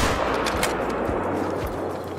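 A single sharp rifle shot while hunting in the video game Call of the Wild, loud and close, its crack fading into a short rumbling tail.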